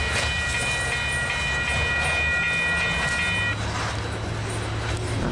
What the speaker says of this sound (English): Let's let the freight train fade away.